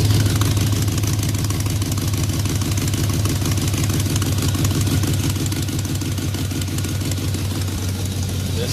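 A car engine with open headers idles nearby with a steady, low, pulsing rumble through the exhaust, unchanging and loud throughout.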